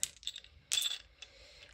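Dice clatter and tumble in a dice tray in two or three short bursts of hard clicking taps, close and fairly quiet, separated by brief pauses with no talking.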